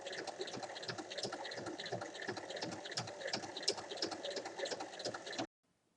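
A sewing machine runs a fast, even stitch down the middle of a fabric pouch to form compartments, rhythmic needle chatter steady and close for about five seconds before stopping abruptly.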